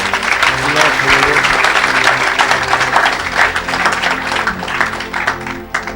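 Congregation at a French-language evangelical church service applauding together, a dense sustained wash of clapping with musical accompaniment underneath and voices mixed in, loud and continuous before easing slightly at the end.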